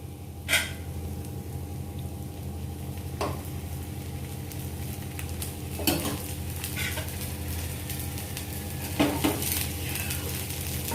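Stuffed mushroom dosa sizzling in oil poured around it on a pan, a soft continuous frying hiss with a few brief scraping or clinking touches.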